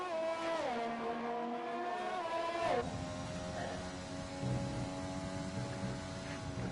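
An F1 race car in a video game downshifts through corners, its high engine whine dropping in pitch in stepped shifts and then holding a steadier lower drone, fairly faint and continuous with no talk.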